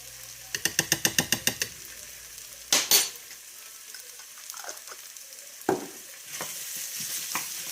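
Organic no-salt-added tomato paste and seasonings frying in a pan for a chicken stew: a steady close sizzle, opened by a quick run of about eight rhythmic utensil taps, with a few louder scrapes and clatters of stirring and no talking.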